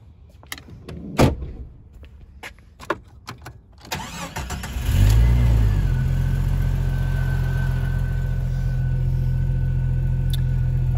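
A 1999 Jeep Cherokee XJ's door shuts and a few clicks follow, then its 4.0 engine cranks, catches, and settles into a steady, loud idle that runs on without a break.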